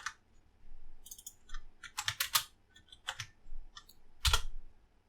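Computer keyboard typing in short irregular bursts of crisp, close key clicks, with a few louder strikes and brief pauses between them, no voices.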